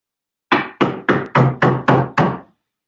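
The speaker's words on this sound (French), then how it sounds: "quelqu'un est venu frapper à la porte de chez Alimatou" Seven firm knocks on a door, evenly spaced in a steady rhythm, close and loud against silence.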